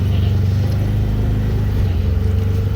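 A car's engine hums loudly and steadily up close as the vehicle pulls in to park near a crowded temple, with no voices over it.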